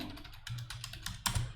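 A command is typed on a computer keyboard, a quick run of close, crisp key clicks ending in a louder keystroke, with no talking.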